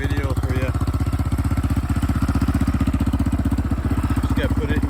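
A 2001 Yamaha Raptor 660R ATV runs close by during engine break-in, its single-cylinder thump a fast, steady, loud pulse throughout, with a person talking over it.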